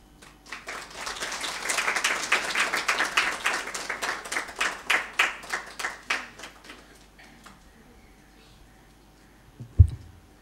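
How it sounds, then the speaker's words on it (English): Audience applause at a Kriya Yoga talk starts as scattered claps, builds into steady clapping, then thins out to a few last claps before trailing off into quiet. "you got to applaud before and after"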